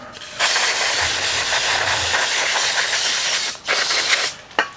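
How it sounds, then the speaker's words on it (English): Carburetor cleaner sprays in long, loud, close hissing bursts onto an old oil pump gear from a Ford engine, with brief pauses between sprays. "just get you some carburetor cleaner"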